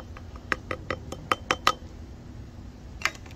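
A glass jar clinks and taps repeatedly while flour and whole-wheat flour are poured in for a sourdough starter, with several sharp, close chinks in a quick run and one more after a pause.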